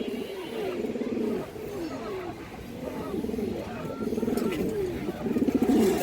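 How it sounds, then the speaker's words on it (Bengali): A pair of silver Raga pigeons coo in low, repeated throaty pulses close at hand on a pigeon farm, with soft background noise and faint voices. "রাগা কবুতর আছে মাশাআল্লাহ, সিলভার রাগা কবুতর, খুবই সুন্দর একটা পেয়ার"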